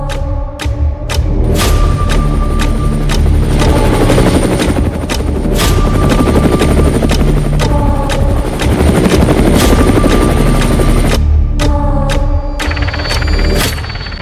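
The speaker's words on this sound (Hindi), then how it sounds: "चेतक और चीता हेलीकॉप्टर को कौन सा हेलीकॉप्टर रिप्लेस कर रहा है, आज हम उसके भी दर्शन आपको कराएंगे" Indian military helicopter built to replace the Chetak and Cheetah, its rotor thudding in a loud, continuous rhythmic beat with a turbine whine, close and dominant, without talk.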